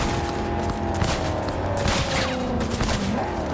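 Rapid gunfire from a shootout in Cyberpunk 2077: dense, continuous bursts of shots over a busy game soundscape, loud and sustained, with a faint tonal whine underneath.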